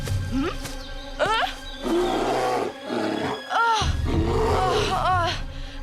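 A cartoon bear growls and roars in several loud bursts, close by, with short pauses between them.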